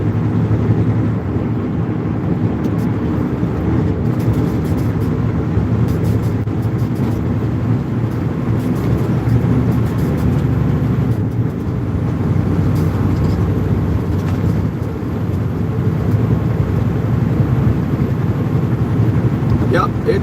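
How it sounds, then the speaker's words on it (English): Kenworth W900 truck with a 600 horsepower engine and an 18-speed manual gearbox, driving with a steady low cab rumble that holds throughout, a voice talking over it now and then. "it's a Kenworth W900, 600 horsepower, 18-speed manual"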